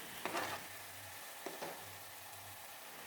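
Finely chopped tomatoes hit sizzling onions in a hot pan while cooking Goan-style prawn kishmur, giving a steady frying hiss with a few louder bursts of sizzle as the pieces land and get stirred.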